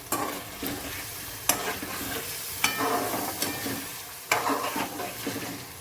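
Sesame and coconut seeds dry roasting in a pan, with close scraping stirs repeating every second or so over a steady dry crackle and no voices.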